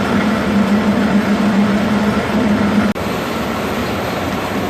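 A metal lathe turns a steel bar at a slowed 70 revolutions per minute during a finishing cut, giving a steady, close mechanical drone with a constant low hum and a brief dropout near the end.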